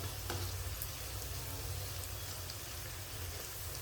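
Cauliflower florets deep-fry in hot oil for gobi manchurian, giving a faint, steady, even sizzle with no talking.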